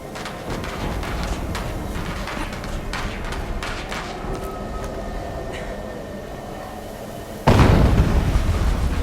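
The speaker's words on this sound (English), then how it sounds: "An explosion." A loud explosion from Horizon Zero Dawn Remastered bursts in near the end, a sudden broadband blast rising over a busy, rumbling game soundscape with scattered impacts.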